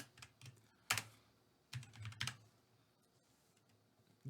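Someone types an email address on a computer keyboard in short, irregular bursts of close, crisp key clicks separated by pauses, in a quiet room.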